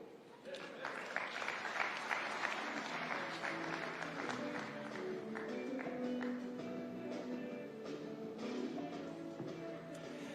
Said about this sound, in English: Another round of applause for Governor Nyong'o.